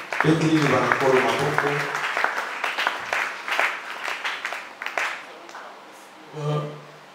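Congregation applauding inside a church during a Mass reading, a burst of clapping that swells and then thins over several seconds, with voices and singing mixed in around it.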